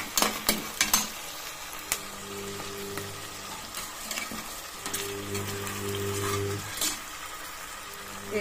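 Ginger garlic paste sautéing in a pan for tomato rice, a low, steady sizzle broken by clinks and scrapes of stirring and a couple of brief tonal hums.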